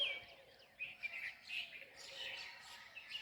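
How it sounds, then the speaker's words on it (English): A large flock of more than fifty birds hidden among red-flowered trees, with overlapping chirps and tweets at moderate distance, some calls near and clear, others faint, over a quiet background. "More than 50 birds are there."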